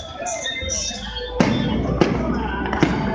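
An Independence Day fireworks display in Charlotte, North Carolina booms in the distance, with several sharp bursts spaced over a steady rumbling background and a crowd murmuring nearby.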